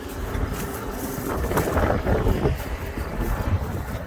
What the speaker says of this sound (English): Brace yourself for some wind.